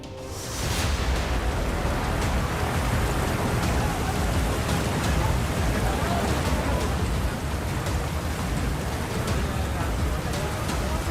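Heavy monsoon rain pours steadily in Ajmer, a dense, continuous hiss that holds at an even level from the first second to the end, with no other sound standing out.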